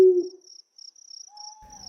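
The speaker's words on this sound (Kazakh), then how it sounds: "Үкі түнгі құс." In a night forest, an owl gives one short, low hoot at the start. Steady insect chirping follows, with a faint, thin whistling tone near the end.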